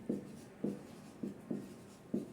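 Pencil writing a math sentence by hand on paper, five short, quiet scratching strokes at a steady rhythm, close by and alone.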